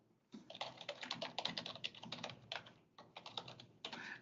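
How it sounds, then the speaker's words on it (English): Rapid typing on a computer keyboard, a dense run of close, crisp key clicks with brief pauses between bursts and no talking. "I'm going to go ahead and type some of these out."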